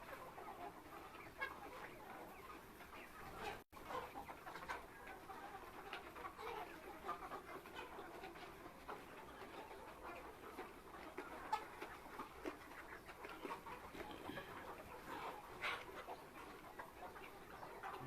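A flock of chickens on a Bangladeshi poultry farm clucks and chatters in a dense, continuous hubbub that stays at a steady, moderate level throughout, with no one speaking.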